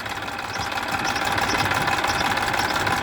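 An overheated tractor engine idles close by in summer heat, a steady low rumble with a rhythmic knocking chug and no talking.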